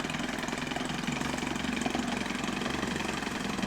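An Evinrude Big Twin 25 HP outboard motor idles in gear, a steady close rumble with a fast, even beat that holds at a constant level throughout, with no talk over it.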